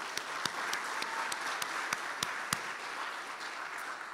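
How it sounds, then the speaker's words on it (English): A church audience applauds its board members for stabilizing the church's finances, a soft, fairly distant round of clapping with a few sharper individual claps standing out. "So really, a big round of applause."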